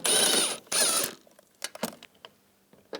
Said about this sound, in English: On the other side, we're going to take these two bolts out, use a 13mm socket.